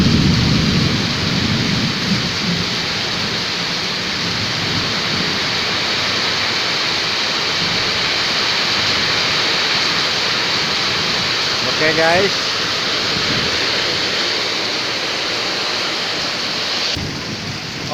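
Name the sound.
heavy rain with wind and thunder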